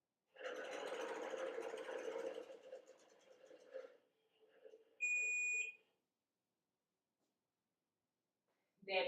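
A sewing machine whirs briefly, then a single clear electronic beep sounds for about a second before silence.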